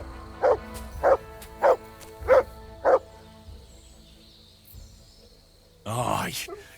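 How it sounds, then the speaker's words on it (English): A dog in Kingdom Come: Deliverance II barks five times in an even rhythm, clear and fairly close, followed by quiet and then a brief muffled rustle at the end. "Good dog, Max."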